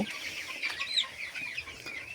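Sonali hens in a poultry shed cluck softly and repeatedly in a small group nearby, with a few sharper squawks mixed into the steady chatter.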